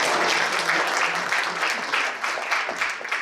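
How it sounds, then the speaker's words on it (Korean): Applause from a crowd at a Cheongsanri battle victory anniversary ceremony, a short, full burst of clapping that holds steady for a few seconds. "박수로"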